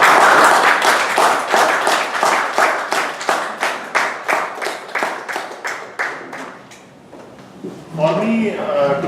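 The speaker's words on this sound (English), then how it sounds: "I request all of you to stand up and give him a big round of applause" A round of applause at a Toastmasters meeting for a member's first icebreaker speech: a small group claps in a clear, rhythmic unison beat that fades toward the end before a voice begins talking.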